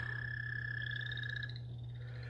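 An American toad gives a high, sustained musical trill, steady and moderately loud, over a constant low hum, with no voices.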